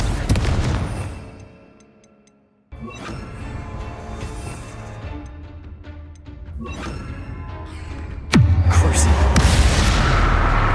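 A Confringo fire spell bursts in a Hogwarts Legacy tomb, a loud, deep explosive boom that erupts late and roars on as a sustained rumble, after earlier low crashing and clattering game noise.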